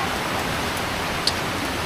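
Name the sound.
heavy rain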